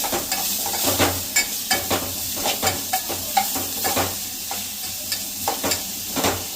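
A spoon repeatedly stirs green ginger-chili masala into a mixed-bean samosa filling in a sizzling pan, rhythmic scraping strokes about every half second over a steady close fry, with no talking.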